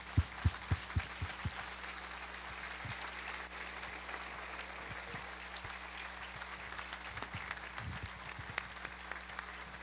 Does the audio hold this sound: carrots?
no